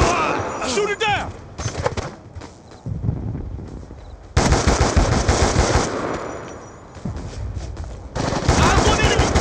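Sustained automatic machine gun fire in Black Ops II rattles loud and close in long bursts separated by brief pauses, with shouted callouts over the shooting.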